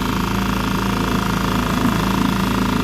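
A dinghy's outboard motor runs loud and close, a steady, even buzzing drone with no breaks.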